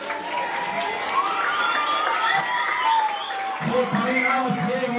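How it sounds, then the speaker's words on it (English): Audience clapping at a youth project's annual awards ceremony, a moderate round of applause mixed with a few shouts and cheers from the crowd, with a voice speaking over it near the end. "Well done, round of applause for Patrick."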